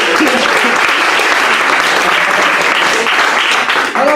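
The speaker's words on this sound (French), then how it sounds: "Je vous demande d'applaudir le Mia." Loud, dense audience applause fills the room at a live stage show, steady and sustained from start to finish with no letup.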